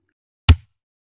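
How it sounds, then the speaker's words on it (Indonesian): One kick drum hit thumps once, close and short, a deep dull punch with a quick decay in otherwise silent surroundings. "Kemudian ketuk kick."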